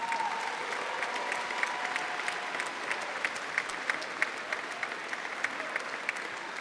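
An audience at a high school signing day applauds graduating seniors with sustained, even clapping from a crowd, a dense rattle of many hands at moderate distance.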